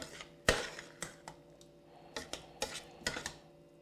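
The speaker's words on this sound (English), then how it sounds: "we want to just fold this around until all that flour is soaked up by the butter" A spoon scrapes and knocks against a pan while folding flour into melted butter for chicken à la king, giving a string of sharp metallic clinks and soft scrapes in an irregular rhythm, close and fairly quiet, with no talking.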